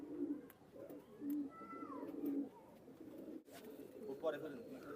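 Several pigeons in a loft of about thirty pairs coo in low, rolling bursts, with faint voices and scattered clatter in the background.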